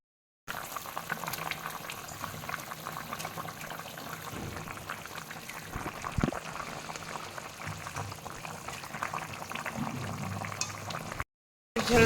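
Fish curry broth with winter vegetables bubbling at a steady boil in a pot, a continuous soft rolling simmer with a brief louder splash or pour midway.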